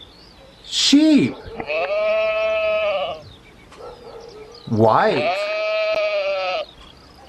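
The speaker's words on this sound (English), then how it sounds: "White sheep." A toy sheep gives two drawn-out, wavering bleats a few seconds apart, close and fairly loud, with a short spoken word just before the first.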